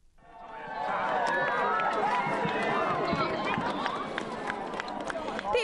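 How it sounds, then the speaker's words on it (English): A large crowd of fans standing ten deep outside the Sydney Opera House cheers and claps in a steady, dense roar that swells in and holds, with chatter mixed through it. "Was clapping and cheers as fans stood 10 deep outside the Sydney Opera House"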